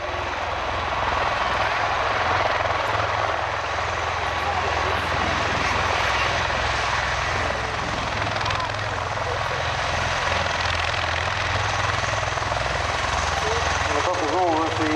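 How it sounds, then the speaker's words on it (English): Bell Boeing MV-22 Osprey tiltrotor from the US Marine Corps flying over an airshow, mixed with the roar of Lancaster bomber engines; a loud, continuous rotor and engine drone that holds steady for the whole stretch. "you will also hear the not inconsiderable noise made by the Osprey"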